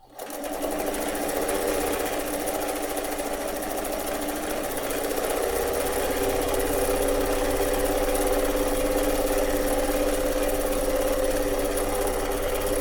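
A Pfaff 230 sewing machine stitches steadily at a very small stitch length, giving a continuous close mechanical whir and rapid needle clatter that runs unbroken and fairly loud.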